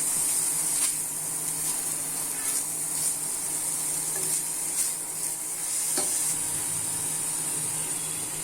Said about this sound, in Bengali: নারকেল দেওয়ার পর একটু ভালোভাবে নাড়িয়ে নিতে হবে